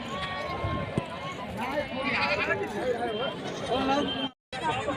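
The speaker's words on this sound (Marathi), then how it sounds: "पिल्ल्यावाली शेळी आहे" Goats at the Gangakhed livestock market give repeated wavering bleats amid a busy crowd, with people talking nearby throughout.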